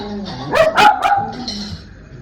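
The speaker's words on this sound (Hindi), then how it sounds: "इतने 4 डॉग है, जब भौंकते हैं ना तो पूरा सर पे उठा लेते हैं ये गाँव" Village dogs bark close by in a burst of three or four loud, sharp barks in quick succession, followed by softer yips and whimpers.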